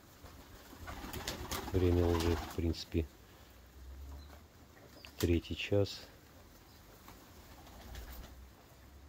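Domestic pigeons in a rooftop loft coo in two short bursts while someone talks over them, with steady outdoor background noise.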